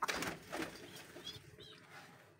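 Pigeons in a loft give soft, low cooing calls at close range, fairly quiet, with light rustling and shuffling around them.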